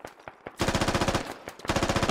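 Sustained automatic rifle fire in a Squad military shooter match, opening with a few scattered single shots, then two long rapid bursts separated by a short pause, loud and close with sharp crackling reports.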